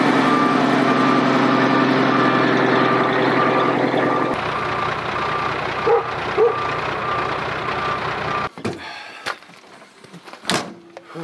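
A low bed truck arrives with a steady reversing beep over a loud idling diesel engine for several seconds; the engine then cuts down, leaving quieter clanks and knocks near the end.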